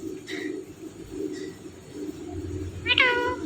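Faint chirps from a parrot give way to a clear, drawn-out imitation of a cat's meow near the end, over a low steady background hum.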